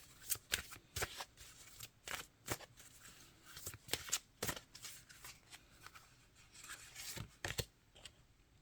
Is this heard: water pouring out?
no